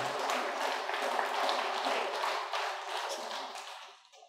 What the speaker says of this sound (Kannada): ನಮ್ಮ ಹೃದಯಪೂರ್ವಕವಾಗಿರ್ತಕ್ಕಂಥ ವಂದನೆಗಳನ್ನು ಚಪ್ಪಾಳೆ ಹೊಡೆಯೋದರ ಮೂಲಕ ಸಲ್ಲಿಸೋಣ.